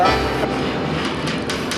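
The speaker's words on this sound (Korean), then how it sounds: "기차가 그냥 사막 길이를 달려가고 있습니다" A train runs through the Sahara desert with sand blowing in through open windows, a loud continuous rumble with faint rhythmic clicking of the cars heard from inside.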